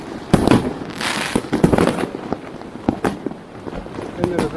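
Fireworks and firecrackers explode on all sides on New Year's night in Yakutsk, 1 January 2023: repeated sharp bangs and crackling bursts, some close and loud, with people talking in between.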